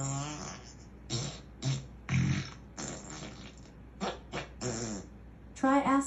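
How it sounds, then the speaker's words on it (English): A run of short fart sound effects plays from a talking device, about ten separate bursts in a row with brief gaps, some low and blubbery, ending with a louder buzzy one. "Time for me to fart 17 times."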